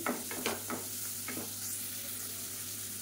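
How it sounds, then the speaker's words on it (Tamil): Chicken pieces with bones sauté in a hot pan with a steady sizzle, and a few quick scraping stirs come close together at the start. "பாருங்கள், நல்லா வதக்கி விட்டாச்சு."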